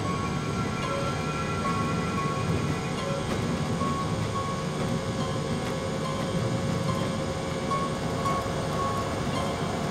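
An airliner's engines hold a dense steady roar at takeoff power, a continuous loud wash of broadband noise with faint tonal whine and no letup across the stretch.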